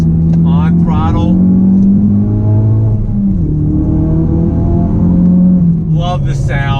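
A 450 hp 2017 Ford Focus RS pulls hard on throttle through a bend, its engine droning loudly and rising and falling in pitch from inside the cabin, with someone talking over it at the start and end.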